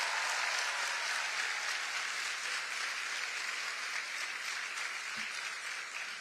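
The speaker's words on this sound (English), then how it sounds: "Give them a round of applause" An audience at NC State University applauds a family standing at a homecoming event for astronaut Christina Koch, steady and fairly distant clapping that holds evenly throughout and tapers slightly at the end.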